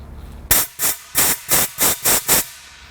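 Compressed air blasts through a fuel hose clamped in a vise during a Ford Fairmont fuel system repair: seven short, loud hissing bursts in a quick, even rhythm, close by and without talk.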